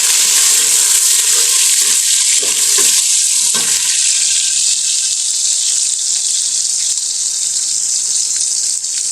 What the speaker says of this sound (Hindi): टमाटर डाल देते हैं